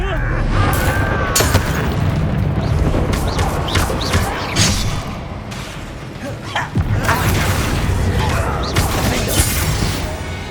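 Confringo fire-spell blasts in Hogwarts Legacy boom out in quick succession, loud and close, mixed with crashes, smashes and game combat noise.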